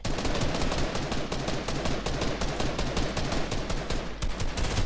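Rapid, continuous automatic gunfire in a video game, loud and dense throughout with shots packed tightly together and no pauses.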